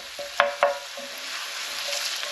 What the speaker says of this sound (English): I'm just going to sweat these off a little bit just so they become nice and sweet